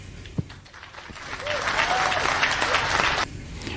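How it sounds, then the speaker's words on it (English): An audience breaks into applause, which swells into a dense round of clapping lasting about two seconds before cutting off abruptly, with a little talk before and after. "Big smile, big applause."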